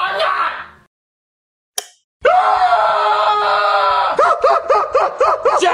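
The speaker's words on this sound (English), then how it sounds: "You're screaming." A child screams loud and close, a long, sustained, high-pitched cry that breaks into a run of rhythmic, pulsing wails, preceded by a short burst of voice and a sharp knock.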